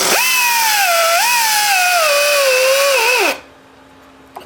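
A power tool whines steadily while sanding a homemade overhead-valve part for a Briggs engine, its pitch sagging and rising under load for about three seconds before cutting off abruptly, leaving a faint hum and a small click.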